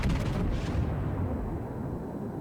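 A battleship's main guns fire in World of Warships, the Großer Kurfürst in the fight. It is a single deep, heavy boom that rolls out into a long, low rumbling tail.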